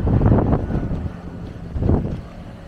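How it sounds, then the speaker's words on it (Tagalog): Strong gusts of wind buffet the microphone outdoors at Alexandria Heights in Norzagaray, Bulacan, roaring loudly in two surges with a lull between. "Tapos sobrang lakas ng hangin dito. Ang lakas ng hangin, grabe."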